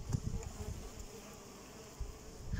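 Italian honey bees hum steadily around their hive at an apiary during a honey harvest, a close, continuous buzz broken by a few soft low thumps, with no one speaking.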